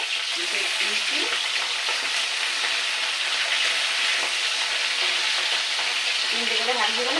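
Fish frying in plenty of oil in a pan gives a steady, dense crackling sizzle that fills the whole clip, loud and close, with faint voices murmuring underneath now and then.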